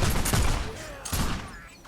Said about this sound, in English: Volley fire!